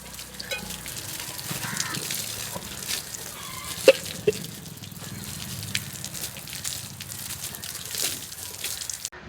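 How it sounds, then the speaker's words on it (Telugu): Water filling up for sprinkling over a newly laid courtyard, a steady low rushing and gushing with a couple of sharp knocks midway, continuous and fairly close. "అందుకోసమని బావతోని వాటర్ పట్టిస్తున్నా."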